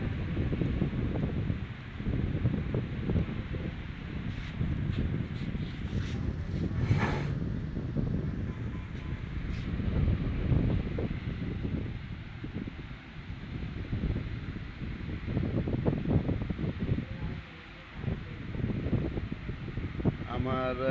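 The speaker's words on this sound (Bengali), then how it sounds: "প্রচুর বৃষ্টি হইতেছে বাতাসও প্রচুর" A strong wind and heavy rain storm in Cumilla, recorded from a fifth-floor room, with continuous roaring gusts and rain noise throughout, plus faint background voices.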